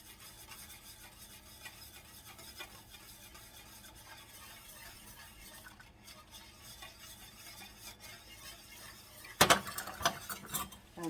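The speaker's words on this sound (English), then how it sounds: "I'm going to stir these in" A cup of grits is stirred into a pot of water at a roaring boil on a stovetop burner, making a steady soft scraping swirl that grows louder and more clattery near the end.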